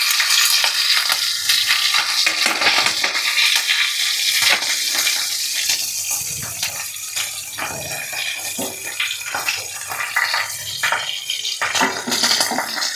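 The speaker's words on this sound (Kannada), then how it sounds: "ಚೆನ್ನಾಗಿ ಎಣ್ಣೆ ಕಾದಿದೆ, ಈ ಸೌಂಡ್ ಬರುತ್ತೆ. ನೆಕ್ಸ್ಟ್ ಬಂದು ನಾವು ಕರಿಬೇವು ಸೊಪ್ಪನ್ನ ಹಾಕೊಳ್ಳೋಣ." Curry leaves dropped into hot oil give a loud, dense crackling sizzle that runs continuously for several seconds, rising and falling with bursts of spattering, close by and with no voices.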